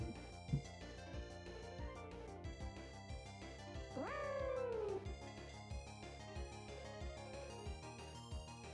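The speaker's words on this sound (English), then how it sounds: "Why does Alolamolus cry sound like a cat?" A Pokémon's cry in Pokémon Showdown, the Alolan Mudsdale-like creature wailing with a rising and falling cat-like howl for about a second over steady game music, with no talk.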